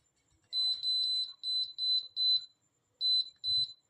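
An air fryer timer beeps in a series of shrill, evenly spaced tones, several in a row, then a short pause before two more. A soft bump is heard near the end, and nobody speaks.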